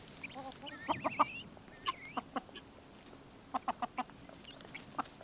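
Hens cluck in short bursts of sharp, close calls, several clustered together with quieter murmuring between them.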